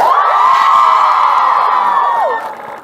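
Maze Runner fans at a KCON 2015 convention panel with Ki Hong Lee burst into loud, high-pitched screaming and cheering that holds for about two seconds, then fades.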